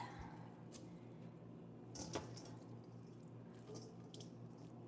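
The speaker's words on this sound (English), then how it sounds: "Draining off that water." Pasta water drains into a kitchen sink, a faint steady rush of running water with a few splashy spurts and drips, heard alone without voices.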